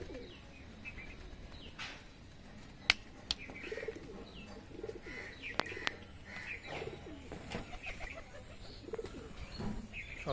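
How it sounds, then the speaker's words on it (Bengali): Phulchira and Beldanga pigeons coo softly and repeatedly at close range, with scattered chirps, occasional wing flutters and a few sharp clicks, all faint and with no voices. "এই যে পায়রা কোয়ালিটি"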